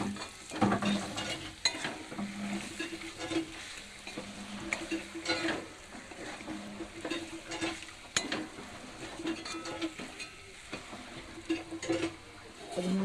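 Cashew paste goes into a frying dish and is stirred in, with repeated spoon scrapes and clinks against the pan over a quiet sizzle, irregular strokes continuing close by for several seconds.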